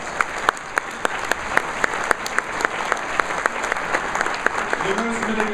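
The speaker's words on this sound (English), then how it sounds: "Mark, give a round of applause." Audience applause at an economic forecast luncheon, a sustained wash of hand clapping with distinct sharp claps standing out, steady throughout, with a voice starting to speak near the end.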